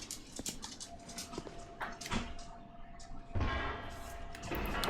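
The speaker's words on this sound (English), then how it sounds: "Your dog wouldn't bark like that if it wasn't murderers." A dog in a house with barking and whimpering yelps in short bursts, somewhat muffled and mid-distance, over steady background noise.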